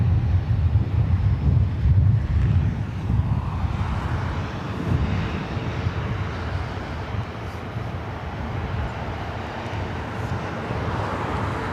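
An Airbus A350-1000 jet at LAX gives a broad engine rumble that is strongest at first and then eases to a steadier, lower roar, with some wind noise and no talking.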